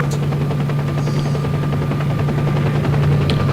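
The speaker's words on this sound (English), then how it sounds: "And we can see a helicopter going by here." A helicopter in the video game S.T.A.L.K.E.R.: Shadow of Chernobyl, its steady thumping rotor drone filling the scene continuously, loud and close, with sharp rapid crackles layered over it.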